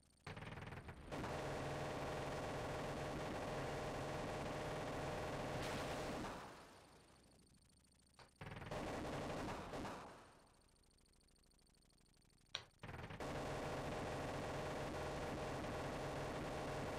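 Dense, continuous machine-gun-like rattle in the video game Desert Strike, loud and steady in long stretches, cut by two quiet gaps and a single sharp crack before the firing resumes.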